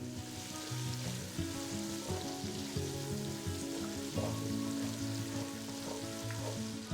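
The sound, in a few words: drumsticks sizzling in oil for sambar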